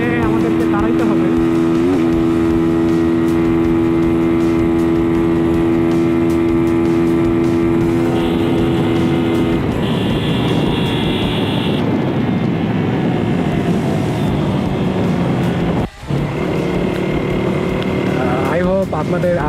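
Yamaha R15 V4M and Lifan KPR 165 FI motorcycles at high speed in a top-speed test, a loud, steady engine drone with rising tones and wind roar, with talk throughout.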